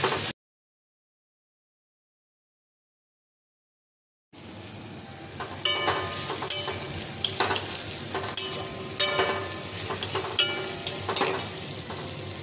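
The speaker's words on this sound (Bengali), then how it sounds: "একটু হলুদ, একটু ভালো করে নাড়বো।" Spices and turmeric sizzle and fry in a pan while a utensil stirs them, with scraping strokes and clinks over a steady crackle, starting after a few seconds of silence.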